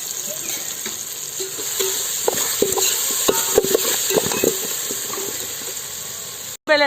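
Onions and tomatoes with salt sautéing in a pan give a steady close frying sizzle, with repeated scraping and tapping stirring strokes throughout, no talk.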